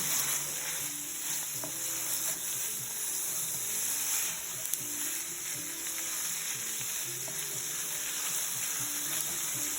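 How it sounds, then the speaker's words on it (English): Boiled pasta water pours out to drain from a pot, a steady hissing rush with no talk, cooked in a home kitchen for a cast iron cheeseburger casserole. "Our pasta is done. We're gonna drain that out"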